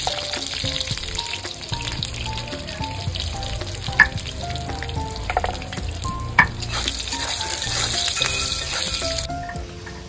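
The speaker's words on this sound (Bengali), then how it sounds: "বেগুন ভাজা হয়ে গেছে, তুলে নিচ্ছি।" Eggplant slices sizzle steadily in hot oil, close by, with two sharp utensil clinks and light stirring; no one speaks.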